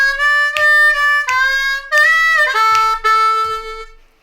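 A D harmonica plays a bluesy lick, with a run of separate reedy notes, draw bends sliding the pitch down, and a held final tone that fades out, loud and close with no talking.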